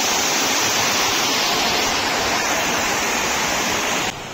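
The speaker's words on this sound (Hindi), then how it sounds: "ये देखो यहाँ से पानी बह रहा है पूरा।" Water flows in a loud, steady rush below a balcony in Nainital, a dense continuous roar that eases slightly near the end.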